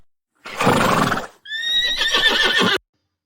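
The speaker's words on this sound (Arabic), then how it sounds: "صهيل الحصان" A horse neighs close and loud, a breathy snort-like burst followed by a long shrill whinny that shakes and flutters before cutting off.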